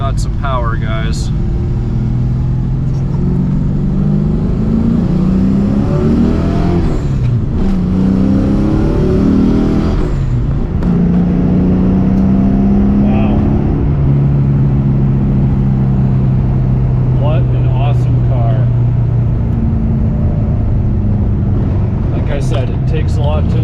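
A 1993 Foxbody Mustang with a 408 stroker V8 revs and pulls hard, its deep exhaust note climbing and falling through several accelerations, loud and close inside the car, with someone talking over it at times.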